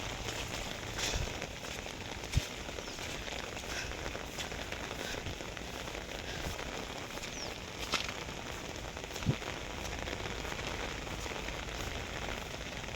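Steady typhoon rain pours down in a dense, continuous hiss, with a few sharper drips or taps standing out now and then.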